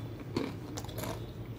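Crunchy, spicy three-layer masala-coated fried peanuts being bitten and chewed close up, a few sharp crisp crunches in quick succession with no talking.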